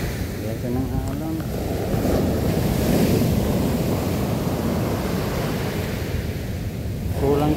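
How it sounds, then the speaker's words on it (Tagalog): Big ocean waves crash and surge onto a Zambales beach in a continuous loud roar, with wind buffeting the microphone and brief voices heard at the start and end. "Laki ng alon, no?"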